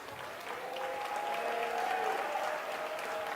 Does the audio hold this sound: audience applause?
yes